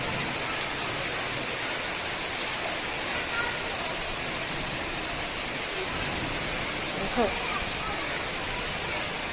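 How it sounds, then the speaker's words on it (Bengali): Heavy monsoon rain pours down without pause over waterlogged ground, a dense, even roar that stays steady throughout. "এত বৃষ্টি সকাল থেকে অবিরাম বৃষ্টি আর বৃষ্টি"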